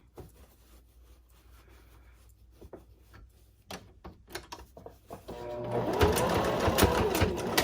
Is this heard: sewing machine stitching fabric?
yes